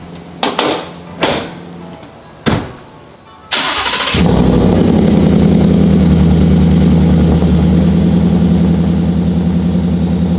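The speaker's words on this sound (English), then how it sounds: "the truck turned on perfectly fine" A Ford F-150 truck with the Coyote 5.0 V8 and a newly installed ported GT manifold cranks through a few short starter bursts, then catches and settles into a loud, steady, close idle.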